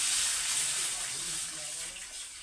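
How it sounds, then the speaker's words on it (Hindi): Water gushes steadily into a cooking pot for Maggi noodles in a village kitchen, a continuous close hiss that tapers slightly toward the end, with no talk over it. "डाल देंगे पानी"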